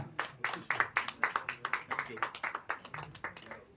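An audience at a Kannada film team's event celebrating Dr. Rajkumar's birthday claps in a brisk, dense burst of applause, many hands striking close together for several seconds.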